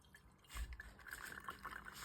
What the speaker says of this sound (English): I'm going to pour my mixture into the filter paper